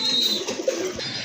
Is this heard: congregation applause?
no